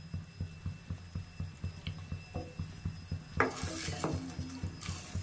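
Tamarind chutney with cashews, raisins and rock sugar bubbles thickly in a pan, a regular throbbing plop of boiling paste repeating about twice a second, joined near the end by a brief scraping stir and clink of a utensil.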